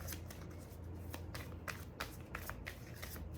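Tarot cards shuffled by hand in a quiet room, a steady run of soft papery riffles and flutters with light slaps over about three seconds, close and fairly faint, no talking.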